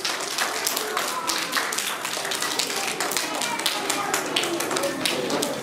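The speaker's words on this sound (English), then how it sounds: "big round of applause." Audience applause at a school awards assembly, a dense steady patter of many hands clapping throughout, fairly loud and continuous with no talk.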